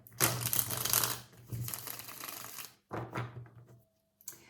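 Tarot cards being shuffled in bursts: two long riffling passes, then shorter quieter ones with brief pauses between, close by with no talk.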